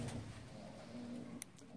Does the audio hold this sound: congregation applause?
no